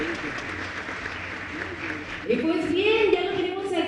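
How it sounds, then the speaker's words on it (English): Applause from a crowd at a BYD SEAL car launch event, moderate and steady, running under an amplified announcer's voice that talks over it and grows louder toward the end. "A big round of applause for her."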